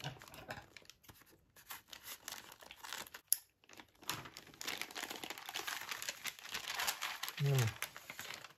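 A paper-wrapped gift package is unwrapped by hand: crinkling and tearing of paper, close and fairly quiet, continues in bursts while a person speaks over it.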